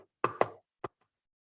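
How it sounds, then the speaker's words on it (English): Knocking on a castle door in a storytelling piece, three sharp, close raps, two quick ones and then a single one after a pause, in otherwise quiet surroundings. "So he went to the castle door and knocked on it."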